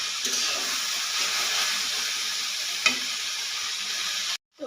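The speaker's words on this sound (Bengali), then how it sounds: "তো ভাজিটি অনবরত নাড়িয়ে ভালো করে ভেজে নিতে হবে" Onion flower and carrot fry sizzling steadily in a pan, a continuous close hiss of frying with a single brief stir or clink partway through, then an abrupt stop near the end.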